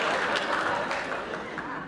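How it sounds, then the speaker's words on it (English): Studio audience applause on a radio panel game, a steady, dense wash of clapping from many hands that holds evenly throughout, close and fairly loud with no voices over it. "a nice round of applause"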